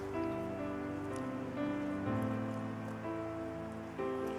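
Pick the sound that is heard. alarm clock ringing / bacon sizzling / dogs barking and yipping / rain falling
rain falling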